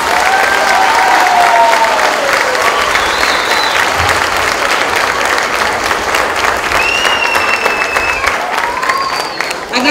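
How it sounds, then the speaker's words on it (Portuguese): Loud audience applause at a Baptist school Christmas cantata, sustained clapping from a large crowd with excited voices and a few whistles rising over it. "Queremos uma salva de palmas também para eles."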